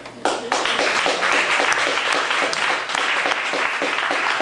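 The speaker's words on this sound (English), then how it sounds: "The person that deserves a big hand is Krishna here, who has put this together." An audience bursts into sustained applause at a public talk on California water resources, a dense, steady clapping that starts abruptly and carries on loudly throughout.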